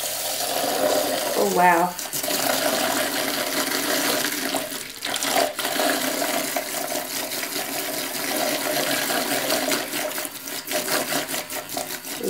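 A StylPro makeup brush cleaner whirs as it spins a brush in water, a steady motorized hum with watery swishing, while someone talks over it and reacts.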